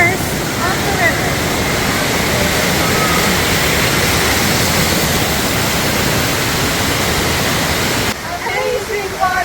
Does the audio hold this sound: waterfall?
yes